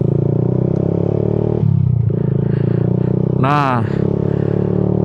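A Honda Jupiter MX motorcycle fitted with a new racing exhaust runs close by with a steady, buzzing throb that shifts briefly partway through, and a short spoken word rises over it.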